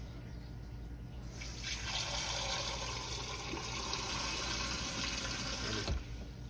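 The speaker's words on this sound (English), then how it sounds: "And I'm going to put some more liquid." Liquid pours in a steady, loud rush into an Instant Pot of oxtail soup with tomato paste and beef stock, filling continuously for several seconds and then stopping abruptly.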